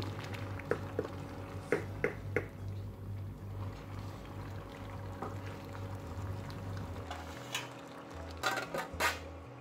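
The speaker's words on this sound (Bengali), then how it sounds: "এটাকে আমি ভালোভাবে কষিয়ে নিব এখন।" Meat being sautéed with spices in a pot, with sporadic clinks and scrapes of a utensil against the metal over a steady low kitchen hum, close and moderately loud, no speech.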